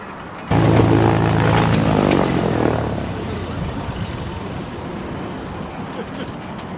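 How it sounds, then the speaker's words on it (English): A propeller airplane, arriving from San Martin with simulated supplies for a disaster-response training exercise, starts abruptly as a loud, close, humming engine drone that gradually fades and recedes over several seconds. "This plane flew in from San Martin with simulated supplies for today's training"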